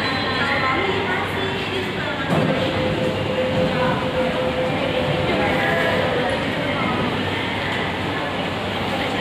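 Jakarta MRT metro train in the Bundaran HI underground station, a loud continuous rumble with a rising whine of the motors, while people talk nearby.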